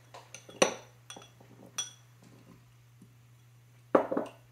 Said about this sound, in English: Stir the blueberries in.